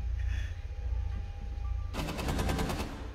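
Video game gunfire in Rainbow Six Siege, starting with a muffled rumble that gives way to a loud, rapid burst of automatic shots in a quick, even rhythm lasting about a second.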